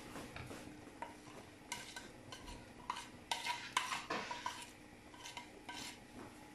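A dough of chana dal lentils, coriander, onion and green chili gets mixed for a paratha, giving soft, uneven stirring and scraping against a bowl that swells and fades for several seconds, quiet and close, with no talking.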